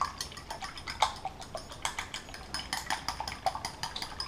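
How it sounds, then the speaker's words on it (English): Whisking eggs in a bowl for a ham and Swiss cheese omelet: quick, irregular clinks of a utensil against the bowl, close and fairly soft, with no talk. "to start the omelet, you're going to need to whisk the eggs"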